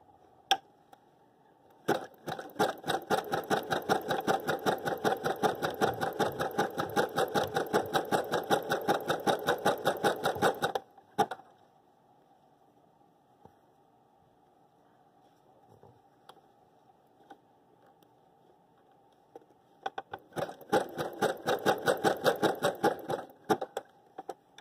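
A sewing machine stitching a neckband runs in two loud, fast, even bursts of rapid mechanical clatter, separated by a long quiet pause with faint handling noise.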